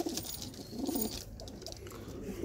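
Madrasi pigeons coo in low, rounded murmurs that repeat steadily, with faint rustling and some higher chirps in the background.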